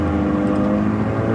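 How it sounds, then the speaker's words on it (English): A Honda Civic with a loud, aggressive exhaust accelerates past up close, a dense, throaty engine roar filling the short moment with a steady, strong drone. "Ooh, this one has a bit of an angry exhaust, doesn't it?"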